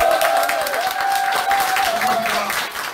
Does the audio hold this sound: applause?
yes